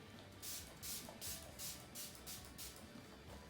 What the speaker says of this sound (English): I'm just going to put a little bit more setting spray on